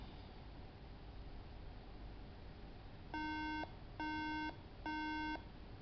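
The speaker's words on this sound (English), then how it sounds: "A MacBook Pro, horrible computer, still beeping." After a stretch of faint hiss, a broken MacBook Pro laptop gives three steady beeps in an even rhythm, each about half a second long.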